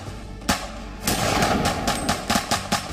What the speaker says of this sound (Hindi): अचानक जेल के अंदर गोलियां चलने की आवाजें आने लगी।